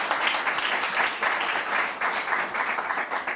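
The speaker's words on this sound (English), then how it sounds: "if everyone wants to clap just to prove that we are all here" A studio audience in London's West End claps together, a dense, steady patter of many hands that holds at an even level throughout without any voices.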